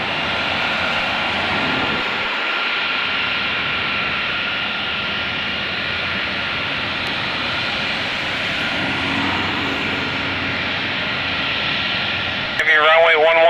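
A military jet taking off at Mildenhall gives a loud, steady engine roar that holds for the whole stretch. A voice is heard and a sharp burst of noise comes near the end.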